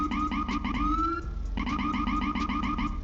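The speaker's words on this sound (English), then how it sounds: "You could blip the siren like this." Short repeated police siren blips from an emergency vehicle in GTA 5, sounding as a steady run of quick yelping bursts with a brief sustained wail in the middle, loud and close with no talk.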